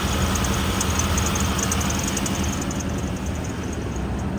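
The 3.2 liter engine of a 2000 Isuzu Rodeo runs at a steady idle, a loud, even rumble heard up close without any change in pace.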